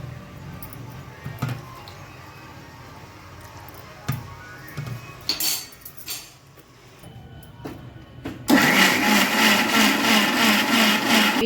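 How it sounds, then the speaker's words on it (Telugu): A mixer grinder whirs loudly as it blends cooled boiled tomatoes for tomato charu, starting abruptly after a few seconds of kitchen clatter and then running as a steady, dense roar to the end. "ఈ చల్లారబెట్టుకున్న టమాటాలు మిక్సీలో వేసుకోవాలి."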